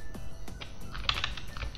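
Keys on a computer keyboard are tapped in short, irregular bursts of clicks, close and clear, with no voices over them.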